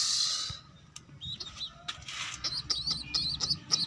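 Pigeons flutter and chirp close by in the morning, with a burst of wing flapping at the start and again midway, then a run of short bright calls and clicks.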